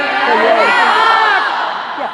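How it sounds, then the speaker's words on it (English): A convention panel audience cheers and whoops loudly in a dense, sustained roar of many voices that fades slightly at the end, with high shouts layered over the crowd noise. "round of applause"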